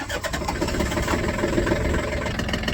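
An old tractor engine runs with a steady, loud mechanical drone that stays dense and continuous, close by, consistent with the motor cranking and settling into a rough idle.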